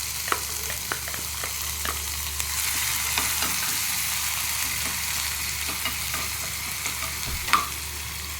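Green chillies fry and sizzle in a pan with ajwain-like fennel seeds as a spoon stirs them, a steady close hiss punctuated by scraping strokes and a sharp clink near the end.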